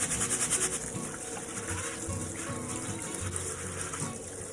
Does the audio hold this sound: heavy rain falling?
no